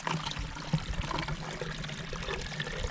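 Water trickles softly in a stream at a campsite, a faint, close gurgle with small splashes and drips scattered through a quiet background.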